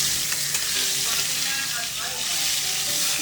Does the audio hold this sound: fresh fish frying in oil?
yes